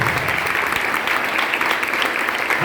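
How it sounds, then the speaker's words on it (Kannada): A church congregation at a healing and deliverance service claps together in sustained, dense applause that stays loud and even for a few seconds. "ಇನ್ನೊಂದು ಚಪ್ಪಾಳೆ, ದೇವರ ಮಹಿಮೆಗಾಗಿ ಚಪ್ಪಾಳೆ"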